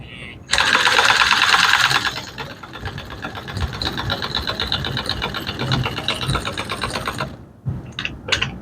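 An electric sewing machine power-feeding boat upholstery fabric, a loud continuous mechanical whir that slows briefly, runs steadily again, then stops and gives a few short bursts at the end.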